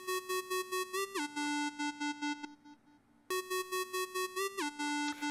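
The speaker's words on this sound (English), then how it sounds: "It's the simple square from Lead Synth" Simple square-wave lead synth with a gate preset, chopping into rapid even pulses that step down in pitch, pausing briefly into a low hum before the same gated pattern returns.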